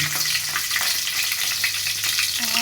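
Chili frying in hot mustard oil, a continuous crackling sizzle at steady volume, close by with no talking.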